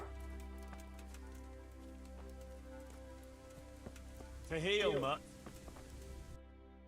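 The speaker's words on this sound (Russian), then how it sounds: "О, дождик пошел, вообще шикарно" Rain in the video game Kingdom Come: Deliverance, a soft, even patter under steady musical tones, with a brief burst of voice near the end.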